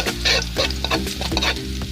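Garlic sautéing in a hot pan, loud crackling sizzle with repeated scraping stirs in uneven bursts, close and continuous.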